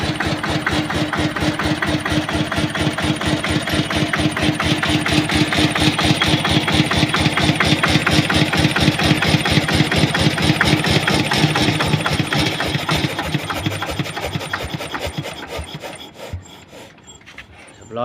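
A Kubota engine on a 3-ton high-voltage cable winch runs steadily with a loud, close, rapid mechanical chugging and rattle, then winds down near the end.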